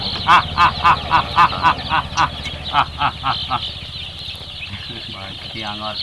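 Free-range village chickens on a poultry farm cluck and squawk in quick rhythmic bursts, fairly close, with low rumbling noise and some farmyard sounds underneath.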